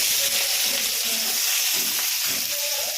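Onion dropped into hot oil with crushed garlic for a mustard-seed kara kuzhambu, producing a loud, dense, steady sizzle that fills the whole short moment.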